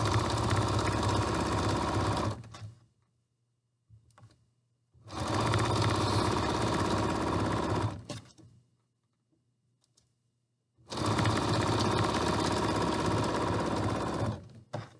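A sewing machine stitching a half-inch seam up the sleeve of an isolation gown runs in three loud, sustained bursts of rapid mechanical chatter, separated by short pauses with faint handling clicks and a low motor hum, no talking.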